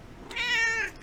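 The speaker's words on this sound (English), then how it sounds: "this right here is my daughter's cat" A single clear meow from a pet cat, close and fairly loud, lasting about half a second with a slightly rising, drawn-out tone, alone without any talking.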